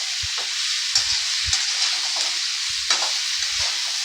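Ridge gourd (turai) fries in a pan with a steady, close broadband sizzle, broken by a few soft knocks of stirring, with no talk over it.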